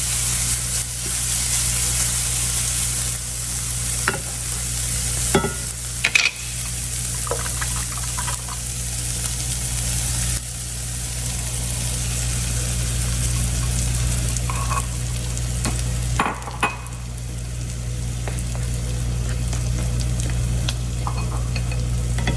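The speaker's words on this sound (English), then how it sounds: "continue to stir and combine the egg in with your sausage, peppers, and onions" Egg mixture with sausage, peppers and onions being stirred in a pan on an electric stove, a soft steady sizzle punctuated by a few scraping knocks of the utensil, with no talking.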